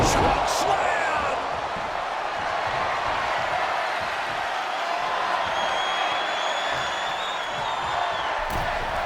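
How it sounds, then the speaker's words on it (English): Arena crowd in the WWE 2K22 wrestling video game roars steadily throughout, a dense sustained wash of cheering with a few whoops, heard close and loud with commentary talk over it. "The sound of this crowd is deafening, and he's asking for more."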